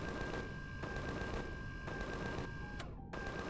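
Rapid bursts of gunfire aimed at a plasma bug in Empyrion Galactic Survival, steady repeated shots broken by brief gaps, loud and close with a sharp cutoff near the end.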